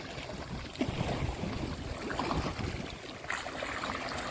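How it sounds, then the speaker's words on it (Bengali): River waves in the Sundarbans churned up by a stormy wind, heard as a steady rushing wash of water and gusts that stays constant throughout, with no voices. "আর দেখুন নদীতে কেমন ঢেউ হচ্ছে এটা কিন্তু এই ঝোড়ো হাওয়া ওঠার কারণেই এই ঢেউটা হচ্ছে"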